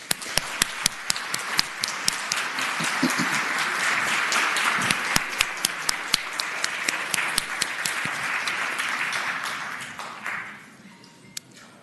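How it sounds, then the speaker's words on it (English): A round of applause fills the Virginia Senate chamber, many hands clapping steadily with a few sharp nearby claps standing out, swelling and then fading away near the end. "So let's please give the members of Delta Sigma Theta Sorority a round of applause"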